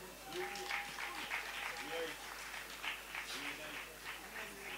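A congregation applauds at a Christian prayer service, a steady wash of clapping that runs the whole time with a voice speaking over it.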